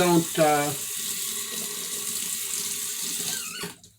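Razor blade rinsed under a running tap, a steady hiss of flowing water into a sink with a brief squeaky rattle at the start, then a sudden stop as the water cuts off.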